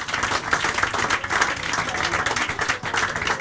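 An audience at a live celebrity talk show in Dinslaken claps steadily and densely throughout, a sustained wash of many hands with no pauses.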